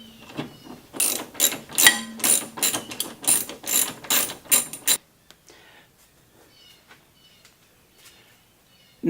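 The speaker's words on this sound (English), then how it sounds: "Now you can leave the top 2 bolts here in place and just take the bottom one loose." A ratchet wrench works loose a radiator support bracket bolt on an Audi A8, sounding as a quick, loud burst of close pawl clicks for about five seconds, followed by faint scattered handling noises and near silence.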